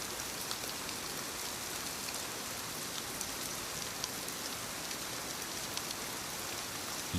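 Steady heavy rain pours down, a dense continuous hiss of drops with no voices or breaks.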